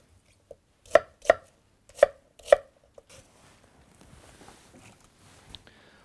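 Carrot and yellow onion are chopped on a board: four loud, crisp knife strikes in quick pairs, followed by quieter rustling and small taps.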